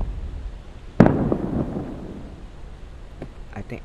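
One loud, sharp gunshot in a video game with a decaying tail, followed by a few fainter pops, under a person talking.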